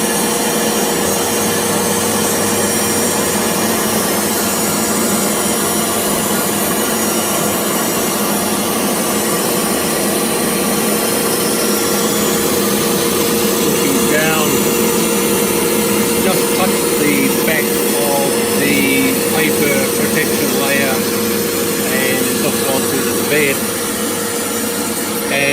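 CNC router cutting the final 4.5 mm deep outside profile pass around a lithophane, a loud steady whine and grinding roar with shifting tones as the bit moves along the outline.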